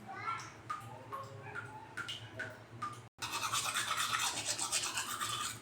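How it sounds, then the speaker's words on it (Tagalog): Teeth brushed with a toothbrush, rapid scrubbing strokes close to the mic, first in short separated bursts and then as dense continuous brushing after a brief gap. "Mag-toothbrush ako guys."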